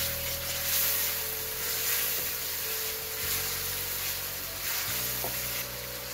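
Teriyaki chicken with soy sauce sizzles in a pan as it is stirred, a steady close frying hiss with soft scraping strokes and no talk.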